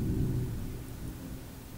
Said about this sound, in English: I don't know if you guys heard that, but that was thunder. Really loud thunder.